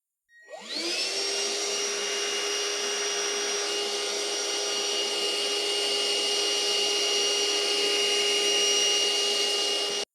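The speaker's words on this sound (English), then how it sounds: "I should probably use the vacuum for that" A vacuum cleaner runs steadily as it cleans dust out of a metal computer case, an IBM Aptiva Stealth, starting up with a rising whine and then holding a loud, constant drone close to the microphone with no talking.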